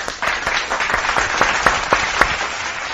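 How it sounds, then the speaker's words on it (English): Distinct, evenly spaced hand claps ring out during a casual online stream, sharp individual smacks repeating about every quarter second over a softer bed of applause. "let's give a big round of applause"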